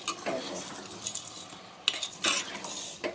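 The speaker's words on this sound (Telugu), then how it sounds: "ఇంకేం మూత పెడుతున్నాం" A lid is set on a cooking pot of pulao with a few sharp metallic clinks and taps over a faint kitchen background, quiet and close.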